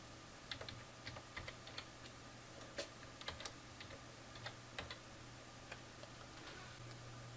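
Keys clatter in uneven bursts on a computer keyboard as text is typed into Paint Shop Pro 2022, the quiet clicks sitting close over a steady low hum with no talking.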